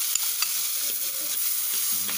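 Shallots, garlic and chili paste stir-fry in hot oil for a northern Thai larb, giving a steady close sizzle with faint scrapes of a utensil against the pan.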